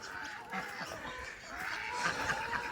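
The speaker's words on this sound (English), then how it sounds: "Yes, here are ducks and chickens." Ducks and chickens on a farm run, with honking and quacking calls rising over steady outdoor background noise, close and moderately loud throughout.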